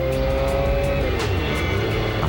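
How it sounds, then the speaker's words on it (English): A McLaren F1 supercar's engine drones steadily at moderate distance. The tone is a sustained mechanical hum with faint tire noise and a slight pitch shift, and no voices are heard. "I'm listening to the sound of the engine"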